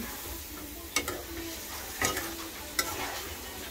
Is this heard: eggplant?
yes